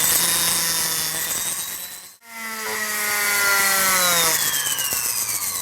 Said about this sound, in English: I'm just going to polish at 90 degrees to that. I'm going to get those scratches out,